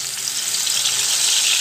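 Chicken tikka mixture sizzling loudly in hot oil in a pan, a dense, continuous frying hiss that holds steady throughout.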